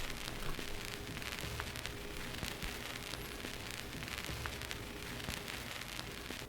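A lo-fi track with a crackle distortion effect, a dense, steady hiss and vinyl-style crackle running throughout at low volume with faint muffled music underneath and no voices.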